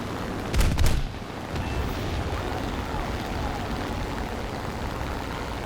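Cannon fire from a Yak-9T fighter in an arcade air-combat video game: a short loud burst of heavy booming shots near the start, then a steady engine and wind drone.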